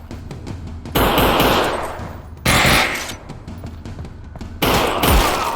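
Gunfire in the VR game Half-Life: Alyx, three loud separate bursts of rapid automatic shots with reverberant tails, separated by short quieter gaps of faint clicks and rattles.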